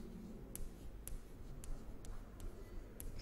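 Numbers being written by hand during a maths lesson, a series of soft, faint scratchy pen or pencil strokes in an irregular rhythm against background hiss.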